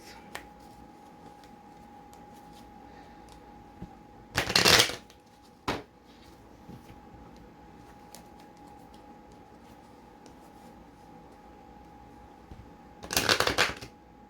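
A deck of bent playing cards being shuffled in two short, crisp riffling bursts several seconds apart, with a low steady hum and a few faint ticks in between.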